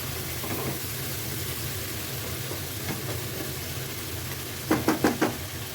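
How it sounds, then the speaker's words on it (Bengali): Shrimp sautéing in a pan during home cooking: a steady, close broadband sizzle, then four quick knocks of a spatula against the pan near the end. "চিংড়ি মাছ তো বেশিক্ষণ রান্না করলে ভালো লাগে না তাই কষাই এইভাবে রান্না করে ফেলি"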